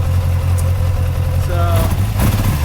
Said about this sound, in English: Getting my Yamaha warmed up here.